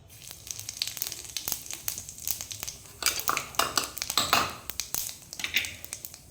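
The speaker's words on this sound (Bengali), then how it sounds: "এই একই তেলের মধ্যে ফোড়নে দিয়ে দেবো সাদা জিরা" White cumin seeds crackle and sizzle in hot oil left from frying potatoes, a steady close frying hiss with sharper bursts of spitting in the second half, and no voices.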